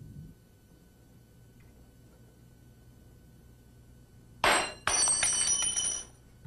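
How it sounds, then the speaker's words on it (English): A glass laboratory thermometer breaks on a bench with a sudden sharp crack, followed by a second burst of bright tinkling and clinking shards that lasts over a second, after a stretch of quiet room hum. "When a thermometer breaks,"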